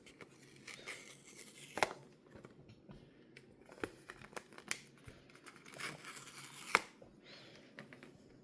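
Protective film peeled off Samsung Galaxy Buds 3 packaging: a quiet, scratchy run of crinkling and tearing plastic with a few sharper snaps, close and continuous, with no talking.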